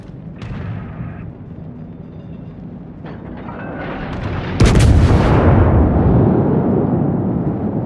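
Warship guns firing in a naval battle game: a low rumble of distant shots, then one sudden, very loud heavy blast that booms and decays slowly into a long rolling roar.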